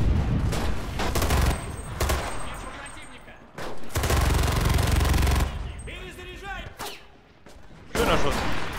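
Gunfire in the shooter game Enlisted during a fortress assault: loud, dense bursts of rapid automatic fire in several long volleys, separated by short lulls, with a voice speaking between shots.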